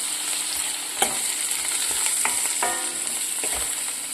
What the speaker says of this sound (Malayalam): ഇത് ഇളക്കി കൊടുക്കാം